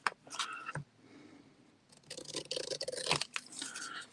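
Scissors snip through paper while a small mini journal is trimmed, giving several close, crisp cutting bursts separated by brief quiet gaps, with no talking.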